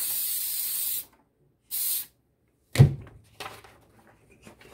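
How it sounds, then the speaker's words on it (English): A spray can hisses in two bursts of about a second each while sublimation socks are prepared for a 15x15 heat press. Then come a thunk and a few quiet handling sounds. "I'm gonna use my spray"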